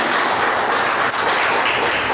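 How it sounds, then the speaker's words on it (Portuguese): A church congregation at an evening deliverance service applauds the Lord, a steady wash of loud, dense clapping that continues without a break and with no voices over it. "você pode aplaudir o Senhor"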